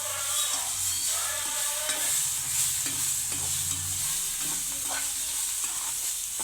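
Tomatoes are stirred into Yippee noodles in a hot pan, giving a continuous close sizzle with repeated light scraping and clinking strokes of a spoon against the pan.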